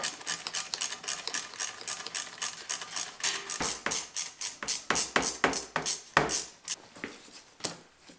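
Hand tools work loose the radiator hoses on a dirt bike, making a close series of quick metallic clicks and taps with uneven rhythm.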